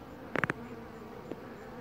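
A short burst of a few buzzing passes from insects close by, then a faint single buzz later over quiet background hum.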